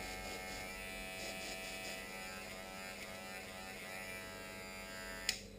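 Electric hair clippers buzz in a steady, close drone while cleaning and lubricating spray is blasted between the blades, ending in a sharp click near the end.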